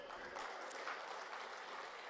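Audience applause at a Tamil comedy stage speech, a steady wash of clapping from a crowd that holds evenly through the short moment.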